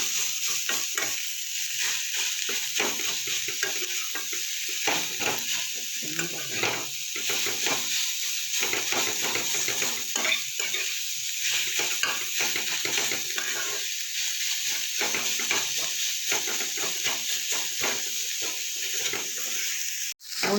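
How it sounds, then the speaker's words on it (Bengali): Radish being stirred and fried in a pan over low heat for mooli paratha, a steady close sizzle with soft scraping stir strokes running throughout, no talking. "হালকা আঁচে একটু নাড়াচাড়া করে নিতে হবে।"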